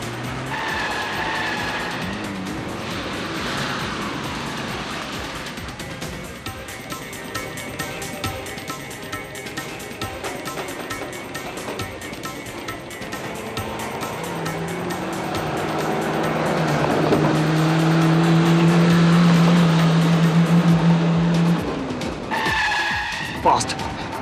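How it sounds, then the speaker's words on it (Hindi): A car is driven fast with loud, sustained tire squeals and skidding over a rumbling engine, rising to a long screech near the end, while voices talk over the noise. "चलाओ, जल्दी चलाओ गाड़ी।"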